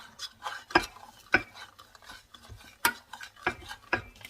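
A spoon stirs coconut milk in a metal pot for pork satay, giving sharp, separate clinks and scrapes against the pot every half-second or so over a faint background. The clinks are close and crisp.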